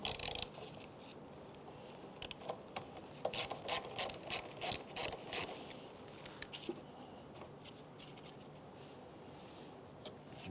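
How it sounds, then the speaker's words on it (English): A 10 millimeter socket wrench loosens the negative battery terminal on a 2011-2016 Hyundai Elantra, giving a close burst of rapid ratcheting clicks in the middle, with quiet pauses before and after. "With a 10 millimeter socket, we're going to disconnect the negative terminal on the battery."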